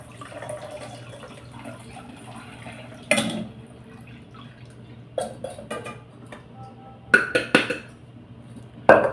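Boiled horse gram is poured into a metal strainer as the cooking water drains off, with a few sharp clanks and scrapes of the pot against the strainer over a quiet kitchen background.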